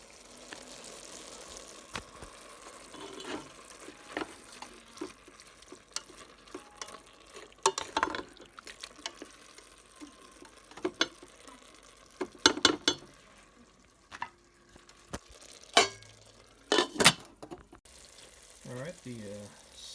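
Fire roasted diced tomatoes and green chilies are tipped into a pan of sausage, onion and jalapeno and stirred, giving soft scraping and sizzling punctuated by sharper clatters and knocks, with a voice talking briefly.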